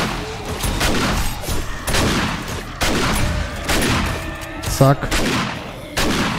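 A mounted turret gun in the zombie survival game 7 Days to Die fires rapid bursts of shots at an attacking horde, loud repeated cracks and thuds with brief pauses, under someone talking.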